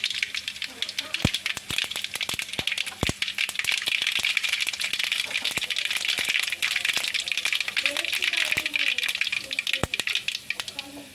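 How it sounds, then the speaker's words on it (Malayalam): Mustard seeds spluttering and popping in hot oil in a home kitchen, a dense continuous crackle with sharp louder pops scattered throughout, close and steady with no talking. "നമ്മുടെ എണ്ണ ചൂടായിട്ടുണ്ട് നമുക്ക് അതിലേക്ക് കടുക് ഇട്ട് കൊടുക്കാം"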